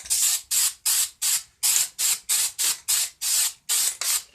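Kiln wash sprayed onto a glass-fusing mold in a dozen rapid, even bursts from a trigger spray bottle, each a short hiss separated by brief pauses, close and clear.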